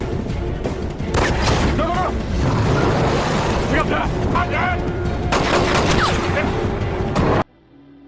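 Rapid bursts of gunfire and booming blasts mixed with shouting voices from a Prison Break film scene, dense and loud, cutting off abruptly near the end.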